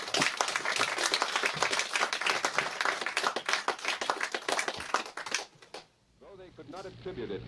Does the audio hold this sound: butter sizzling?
no